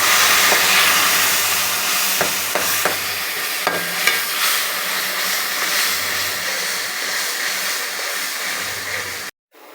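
Steady loud sizzling of onions frying with ginger, garlic, tomato and green chilli paste, with occasional stirring clinks and scrapes, continuous hiss throughout before an abrupt cut near the end.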